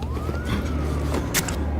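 A police car siren wails loud and close in the Batman Telltale video game, its rising-and-falling tone sweeping continuously under other scene noise, with no talk over it.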